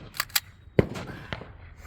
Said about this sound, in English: I hope y'all can hear me over the gunshots in the background